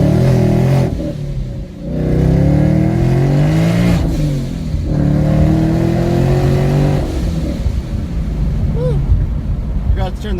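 A car engine revs and bogs down as it accelerates with traction control still on, with rising and falling rev sweeps and stumbles. Someone talks over it throughout.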